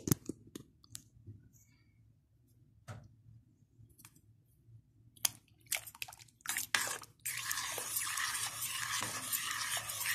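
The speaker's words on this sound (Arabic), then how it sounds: "انا هحط الخليط بتاعي بتاع الصلصة بس، وانا هحط واقلب على طول" A spoon stirs a tomato sauce mixture into a pot of cooking fava beans, giving scattered clicks and scrapes against the pot, then a steady bubbling, watery wash toward the end.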